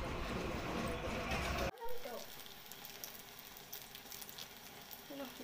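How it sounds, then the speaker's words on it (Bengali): Eggplant slices fry in a pan with a constant close sizzle and crackle, a sharper burst partway through, and faint kitchen clatter. "বেগুনটা ভাজা বসিয়ে দিয়েছি,"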